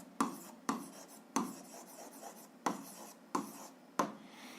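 Pen strokes on paper while solving a seventh-grade algebra exercise, six short scratchy bursts of writing at a steady pace, close and fairly quiet, with no talk.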